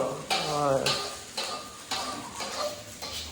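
Nasi goreng fried rice being stirred in a pan, with several distinct metallic scrapes and taps of a utensil at irregular intervals over a faint sizzle, and some low speech in the background.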